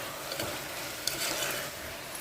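Chopped tomato tipped into a pan of frying mutton curry and stirred, giving a soft steady sizzle with a few scraping strokes of a spoon, close and fairly quiet, with no talking.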